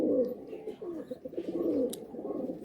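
Madrasi and Giribaz pigeons in a loft coo continuously, a dense run of low rolling coos layered close together with a faint chirp near the end.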